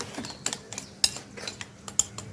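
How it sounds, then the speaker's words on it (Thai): A plate lifted and handled in a home kitchen: several light, sharp ceramic clinks and taps in quick, uneven succession, close and fairly quiet, with no talking. "ขออนุญาตจะยกจานนะคะ"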